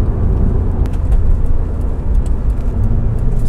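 A Subaru STI riding on KW V3 coilovers drives along the road, heard from inside the cabin as a loud, steady engine and road roar with a deep low hum and no talking.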